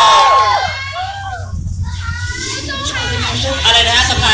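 At a Thai fan meet-and-greet contest, an audience cheers and shouts in a lively, continuous din, with high children's voices whooping and calling out near the front.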